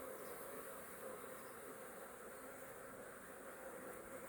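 Steady droning buzz of many bees, continuous and dense, with no breaks or voices.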